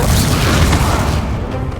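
A heavy, roaring blast from the Confringo spell in Hogwarts Legacy, loud and close, filling the whole moment and fading slightly at the end.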